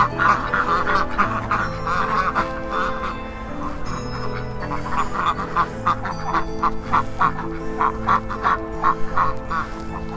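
Farm ducks quack close by in repeated bursts, a dense, lively chorus that goes on throughout with brief pauses.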